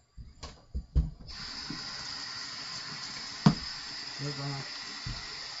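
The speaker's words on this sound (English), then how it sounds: "rinse off that razor" A straight razor is rinsed under a running tap, a faint, steady stream of water after a few soft knocks at the start, with a brief bit of speech and a sharp clink midway.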